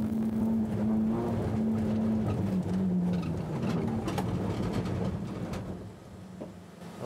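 A rally car driven sideways through corners with left-foot braking, heard from inside the cabin as a loud, continuous engine drone whose pitch rises and falls, with no talking over it.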